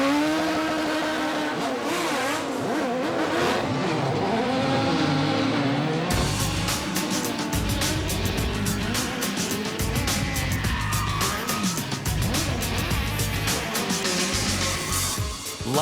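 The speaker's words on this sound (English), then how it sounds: "a live, high-octane look at how vehicle action stunts are created for the movies" Stunt cars at the live Lights, Motors, Action Extreme Stunt Show at Disney World, loud engines revving hard and tires screeching through repeated skids, a continuous roar of close racing and sliding vehicles.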